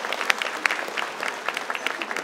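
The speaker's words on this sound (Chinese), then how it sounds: "我们跟他掌声鼓励一下" A crowd claps at a post-election thank-you tea party in Taipei. Dense, moderately loud applause runs steadily for a couple of seconds with sharp individual claps standing out.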